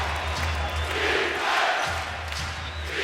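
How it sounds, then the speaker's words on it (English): A large arena crowd at Game 3 of the 2010 NBA Finals chants in rhythmic, rising-and-falling waves, loud and massed together, with the noise of a live basketball game underneath. "Crowd chanting defense already."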